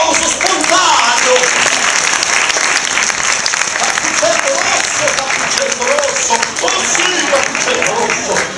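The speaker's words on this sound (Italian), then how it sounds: "un applauso spontaneo!" Loud, sustained crowd applause at an outdoor children's theatre show of Little Red Riding Hood at Rocca di Luna 2011, a thick unbroken wash of many hands clapping with faint voices mixed in.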